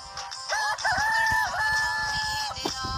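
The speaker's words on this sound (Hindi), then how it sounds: "मियांवाली के मशहूर असील मुर्ग जिसे अपनी ज़बान में असील कुक्कड़" An Aseel fighting rooster from Mianwali crows one long, loud, near call with a wavering, strained tone, set against scattered clucks and low rustling from other fowl.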